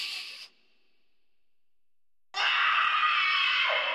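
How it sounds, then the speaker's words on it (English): Two harsh, shrill screams ring out at night, separated by a short silence. The second is longer and louder and holds before cutting off, fitting a Halloween horror setting. "bet you can hear the night scream"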